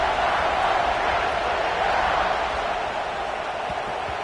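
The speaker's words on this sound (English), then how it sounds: "this crowd is buzzing after that last score" Football stadium crowd at an Ohio State vs Michigan game, a steady loud roar and buzz of thousands of fans filling the whole stretch without pause after a score.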